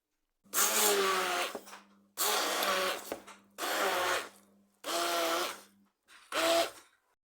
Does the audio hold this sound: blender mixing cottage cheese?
yes